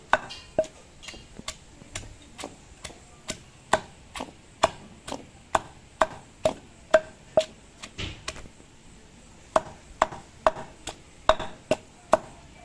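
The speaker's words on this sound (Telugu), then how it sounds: "మీకు కొంచెం కొంచెం దంచుకోండి అలా అయితేనే ఉల్లిపాయలు చక్కగా నలుగుతాయి" Onions being pounded for tamarind chutney, a steady series of sharp, close knocks at an even pace, roughly two per second, with one brief pause partway through.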